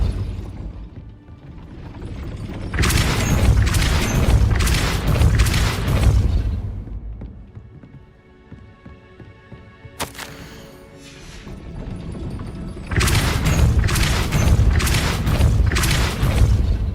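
A Depulso spell in Hogwarts Legacy drives a gate upward with loud mechanical grinding and ratcheting, in two heavy bursts separated by a quieter rumbling stretch.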